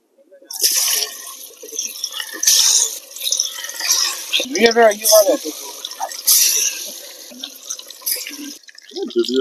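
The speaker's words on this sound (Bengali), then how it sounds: "এইদিকে এই যে কড়াইয়ে একদম তেল পুরো গরম করে নিয়েছি, এবারে মাছগুলো ছেড়ে দেব।" Marinated catla fish goes into fully heated oil in a wok, giving a bubbling, hissing fry that swells and fades in waves. A voice talks over it.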